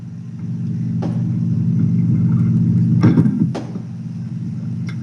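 A car engine rumbles steadily and close, a deep low drone throughout, with a couple of brief knocks or door-like clunks partway through.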